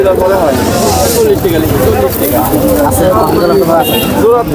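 Pigeons coo and flutter amid a crowded Thursday pigeon market at Nazirpur Bazar, with constant loud chatter and trader voices filling the scene around the birds.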